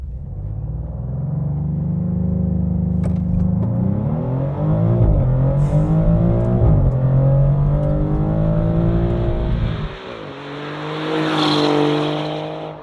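A 2025 Maserati GranTurismo Trofeo launches hard with extra boost for a 0-100 run, its engine revving loud and close through rising gear pulls with brief tire squeal and a sharp shift drop near the end, no voices.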